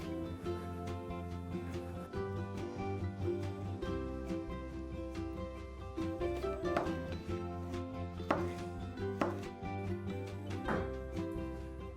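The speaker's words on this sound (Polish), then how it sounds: "tykwę oraz rzodkiew kroję sobie w takie mniejsze kawałki" A knife chops zucchini and radish into small pieces on a board, with a few sharp cuts standing out over steady background music.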